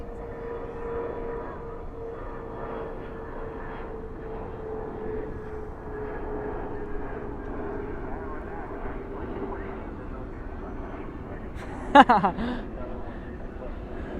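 Airplane at DFW airport at night, a steady distant engine drone holding throughout with a brief sharper burst near the end, a voice speaking over it.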